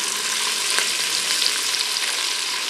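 Chopped celery, onion and green bell pepper sizzle steadily in an Instant Pot, a close, continuous bright frying hiss with no talk.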